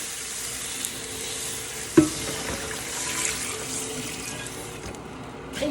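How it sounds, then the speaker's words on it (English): Hot frying grease poured into a kitchen sink, with a steady hiss and sizzle of hot fat meeting the basin, a sharp clunk about two seconds in, and running-water wash throughout, close and without voices. "I know it's probably not a good idea to pour the grease down my sink"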